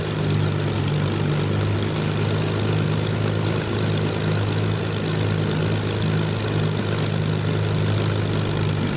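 A Spitfire MkIa's piston engine and propeller drone in a flight simulator, a steady loud low hum with a constant tonal throb running unbroken throughout, no voices.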